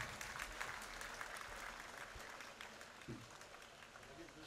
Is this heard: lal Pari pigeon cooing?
no